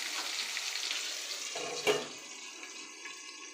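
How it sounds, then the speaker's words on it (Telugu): Chandwa fish fry sizzles steadily in a pan, a soft broadband hiss with a brief clatter partway through, heard close with no talking. "రెండు వైపులా కూడా ఫ్రై అయిపోయిందండి"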